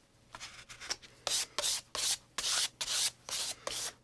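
A card scrapes leftover paint onto a journal page in a series of short, dry rasping strokes, close and fairly quiet, with no talk.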